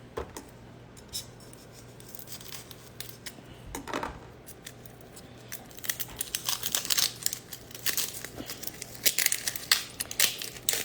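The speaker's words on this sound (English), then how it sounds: "we're going to peel off this skin" Papery onion skin being peeled off by hand while preparing onion rings, heard as dry crinkling and crackling rustles that start sparse and become denser and louder toward the end, close up and with no talking.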